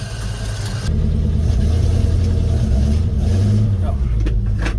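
Ford flathead V8 8BA with an exhaust leak and missing header bolts, running loud and close as a low steady rumble that swells after a quiet first second, with light engine rise and fall.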